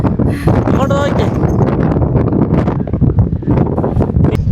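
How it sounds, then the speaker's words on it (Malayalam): Strong wind buffets the microphone on an open hilltop at Ponmudi, a loud, steady roar with gusty rumbling throughout, and people talking beneath it. "അടിപൊളി കാറ്റ്"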